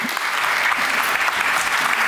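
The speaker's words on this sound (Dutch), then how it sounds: "Geef een warm applaus." Warm applause from an evening audience at an Amsterdam public talk greets a guest, a short, dense, even wash of clapping throughout.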